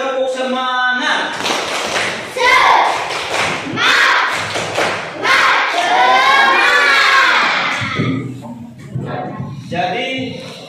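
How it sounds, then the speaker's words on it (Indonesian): Children chant and clap together in a classroom during a 'tepuk semangat' spirit clap, loud rhythmic shouting mixed with thumps and claps throughout, closing with a brief burst of clapping. "tepuk semangat."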